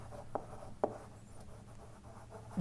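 Chalk or marker scratches briefly across a lecture-room board, a few quiet strokes and taps in an otherwise hushed space.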